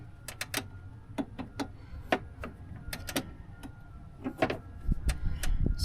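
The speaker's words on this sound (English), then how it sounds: "with the right hand I am ratcheting" A ratchet wrench clicks in quick, irregular bursts while a window regulator is removed from a 2014–2019 Chevrolet Silverado driver door. The crisp clicks come close up and come in short clusters with brief pauses.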